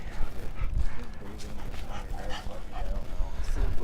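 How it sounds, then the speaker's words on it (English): A leashed dog in the gallery at a golf match barks and yips in short bursts amid steady outdoor rumble and crowd noise, the sounds fairly loud and close. "with his dog on a leash"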